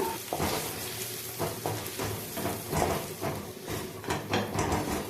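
Sliced onions fry in hot oil in a pan for an Assamese duck meat dish, a steady close sizzle with scattered stirring scrapes and clinks running throughout.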